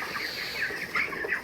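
A packed shed of four-week-old broiler chickens gives off a brief, continuous wash of clucking and chirping, close and fairly loud.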